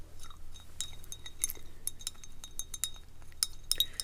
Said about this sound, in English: I stir it up a little and play with it